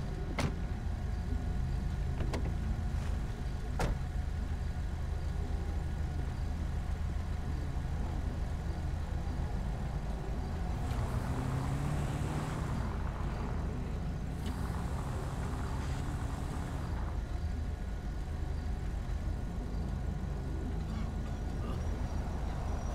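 A Chevrolet Tahoe police car in a video game drives with a steady low engine hum and road drone throughout, a few clicks early on and a brief swelling hiss midway.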